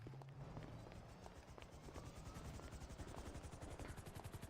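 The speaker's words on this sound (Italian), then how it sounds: "io sono in elicottero" Helicopter in a video game, a steady rapid rotor chop that stays close and even throughout, alone with no talk.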